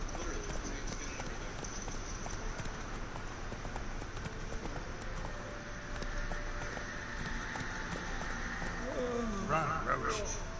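Hooves of a horse ridden in the video game The Witcher 3 clip-clop steadily at a run beneath continuous game background sound, with someone talking over it.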